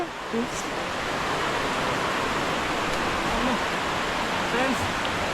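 A waterfall roars in a dense forest near Araku, a steady, loud broadband rush that fills the whole clip without letting up.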